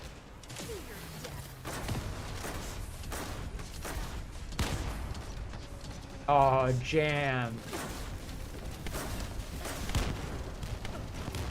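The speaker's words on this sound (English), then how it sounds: "I love that stacked explosion sound effect." Rapid overlapping explosion effects from the game The First Descendant, a chain of punchy thuds and pops layered with combat sounds, with someone speaking briefly over them.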